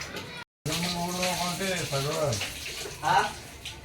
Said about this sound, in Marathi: एवढं डोक्यावर पाणी घेतय तर पाणी पुरत नाही या पोराला